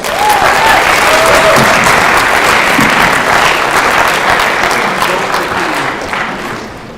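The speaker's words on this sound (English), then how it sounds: "let's give a round of applause" A high school scholarship assembly audience gives a loud, full round of applause, sustained and dense before tapering off near the end.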